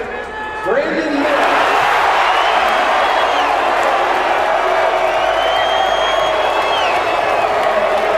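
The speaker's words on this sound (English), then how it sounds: "And then you hear the crowd and the mascot go, ah." A large arena crowd at the 2023 NBA draft roars and cheers steadily after the Charlotte Hornets select Brandon Miller, a loud sustained swell of voices and whoops that opens abruptly and holds for several seconds.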